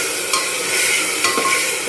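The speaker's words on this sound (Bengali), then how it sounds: "এটা দিয়ে একটু ভালো করে কষিয়ে নেব" Spices and paste stir-fried in a hot pan, giving a steady bright sizzle with a few scraping stirs of a spatula, close and alone with no voices.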